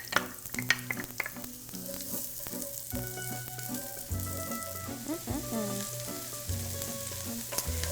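Onions sautéing in a pan for homemade Italian marinara sauce, a continuous close sizzle with repeated utensil taps and stirring clatter and faint tonal background sounds, no voices.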